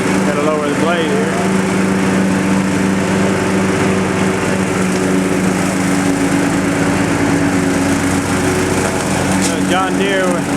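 A John Deere lawn mower with a mulching blade chews through wet garden leaves, its engine droning loud and steady throughout, with faint crunching and scraping from the leaves and a brief voice under the noise.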